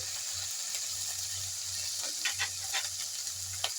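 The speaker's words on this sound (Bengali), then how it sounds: "লঙ্কার গুঁড়ো দিয়ে আমি একটু জল দিয়ে মশলাটা কষিয়ে নেব।" Ground spices with a splash of water sizzle in a pan for Bengali rui fish curry, a steady close frying hiss with faint stirring scrapes and a low hum underneath, no talking.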